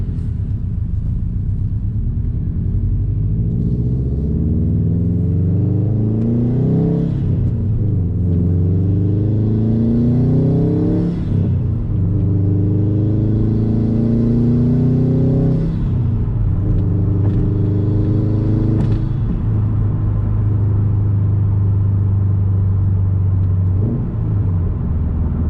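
Subaru STI with modified exhaust and intake accelerating at wide open throttle, loud close engine note rising through several gear pulls with a deep rumbling drone between shifts, no talk.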